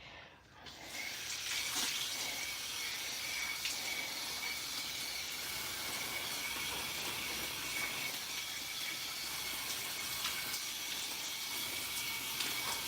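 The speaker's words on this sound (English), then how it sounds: "this one has a very bad leak, so I can't wait until the new nozzle arrives" Water hisses steadily from a badly leaking hose nozzle in a greenhouse, a continuous close spray that holds level from start to finish with no speech.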